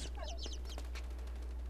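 Chicks or small birds in the video game Inside chirp and cluck in a few quick high calls near the start, with a wing-flap flutter, over a steady low game hum and no talk.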